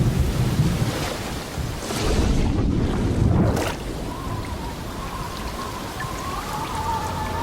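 Steady rain pours in a dense, loud hiss with a heavy rumble underneath, continuous throughout, in the intro of the Blade and Soul video game, with a faint tone rising near the end.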